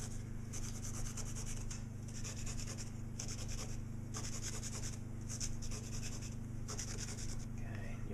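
A rock scrapes along the edges of a reed arrow shaft in steady rhythmic strokes, close and dry, with a low hum running underneath.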